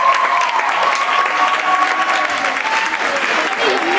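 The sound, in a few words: audience applauding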